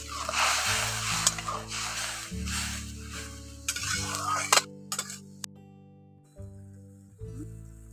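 A village-style curry of ridge gourd and note shak greens is stirred in a pan after water goes in: scraping, clinking spoon strokes over a lively sizzle, the bursts thinning out and quieting toward the end.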